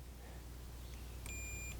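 A multimeter set to continuity beeps with a steady tone as its probes touch a fuse holder inside a 1984 Atari Firefox laserdisc arcade cabinet. The beep starts partway through over a low, quiet hum.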